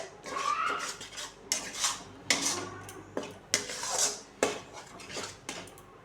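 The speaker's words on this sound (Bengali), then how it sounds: "যতক্ষণ না পর্যন্ত একদম শুকিয়ে যায় ততক্ষণ লাউ পাতা বাটাটা নাড়তে হবে" Bottle gourd leaf paste stirred in a pan until it dries, with repeated close metal utensil scrapes and knocks against the pan in irregular bursts, fairly quiet with no voices.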